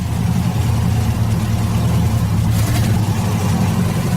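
A Saab car engine started after 30 years stored in a garage runs steadily at idle, a loud, close, continuous low rumble with slight unevenness and no talk over it.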